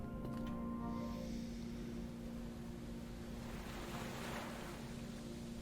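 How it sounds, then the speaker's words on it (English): Ocean waves in a video game, a steady broad wash of surf with wind, one swell building and cresting near the end, heard alone without talk. "Ocean waves."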